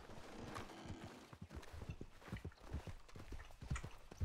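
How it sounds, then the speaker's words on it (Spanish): A horse walking in a roleplay video game, hooves clip-clopping in an uneven rhythm of soft close thuds, growing a little denser toward the end. "Te están entrenando el caballo, ¿no?"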